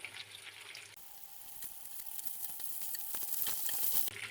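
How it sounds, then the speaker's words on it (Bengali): Chicken pieces frying in oil over a medium flame, a close, steady crackling sizzle that grows slightly louder toward the end, with no talking. "একটু লাল লাল করে ভেজে নিচ্ছি।"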